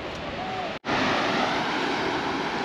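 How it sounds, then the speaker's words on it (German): Strong wind on the Indian Ocean coast in Kenya, a loud steady roar buffeting the microphone, with waves blended in and a brief dropout just before the first second. "Das Problem ist, dass halt echt Wind jetzt aufkommt"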